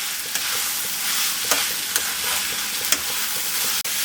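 Tomatoes sautéing with ginger and garlic in a pan for a mushroom gravy, a steady loud sizzle with occasional scrapes and taps of a stirring utensil against the pan.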